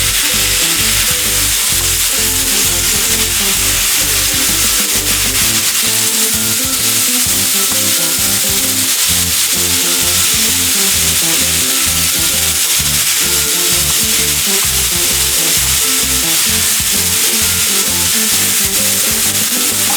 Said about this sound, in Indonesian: Dan tambahkan kembali telur orak-arik yang telah dimasak sebelumnya, lalu aduk sejenak hingga bahan tercampur secara merata.